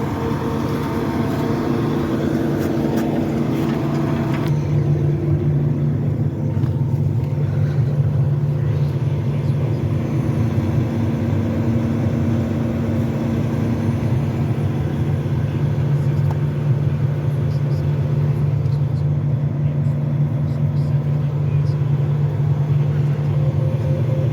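A John Deere S780 combine harvester engine running steadily, a loud, constant low droning rumble with a steady hum, heard close from inside the cab with no talking.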